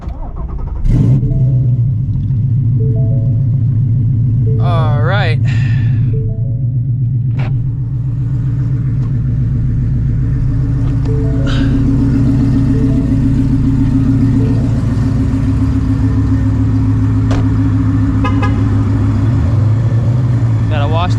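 A supercharged Shelby GT350 with Stainless Works catless headers and an X-pipe idles with a loud, deep, lumpy rumble close by, broken by a few sharp blips of revving. A voice speaks briefly over it.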